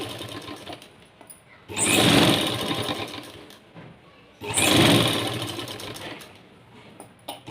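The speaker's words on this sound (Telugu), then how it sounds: "నిదానంగా స్టిచ్ చేసుకోవాలి" Sewing machine stitching piping onto a lightweight blouse, two loud bursts of steady whirring stitching about three seconds each, separated by quieter pauses with faint handling.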